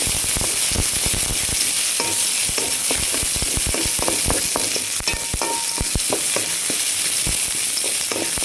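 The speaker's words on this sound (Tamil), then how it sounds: "வெங்காயம் எல்லாத்தையும் அப்படியே வதக்கி கொடுங்க" Onions sautéing in a pan for a rice-flake kolukattai, a loud, dense, crackling sizzle with sharp spattering pops throughout, close by and without talk.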